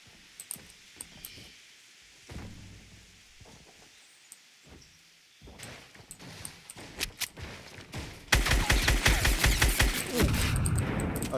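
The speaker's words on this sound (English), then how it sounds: "Okay, getting shot from behind." Video game gunfire strikes a player from behind, starting as sparse scattered shots and swelling into a loud, dense burst of rapid rounds over the last few seconds.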